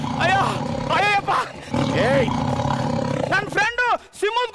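A lion roars in bursts at a zoo, loud and close, with long swooping growls repeating, and agitated voices speak over and between the roars.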